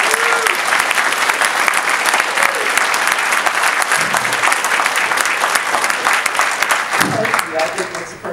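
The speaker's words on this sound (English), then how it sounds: "I think that's the first time my chest has ever gotten an applause." Dense, loud audience applause at an opening key ceremony, sustained and even throughout, with a speaking voice faintly breaking in near the end.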